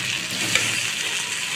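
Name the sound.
onions frying with ginger paste and spices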